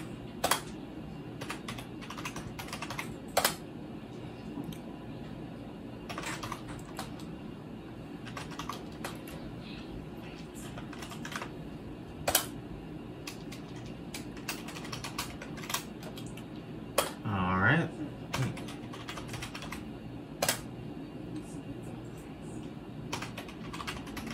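Keys clatter on a computer keyboard as a password is typed into an OpenBSD installer, steady bursts of close, light clicks with occasional louder strokes and short pauses over a quiet room hum.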